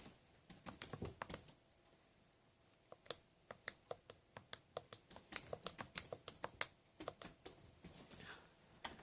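Calculator keys pressed one after another to enter matrix numbers, a rapid run of crisp plastic clicks at close range with a few short pauses, no talking.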